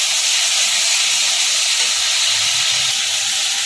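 Ginger-garlic paste frying in a pan for dal makhani, a loud, steady, unbroken hiss of hot oil close up, with no talking.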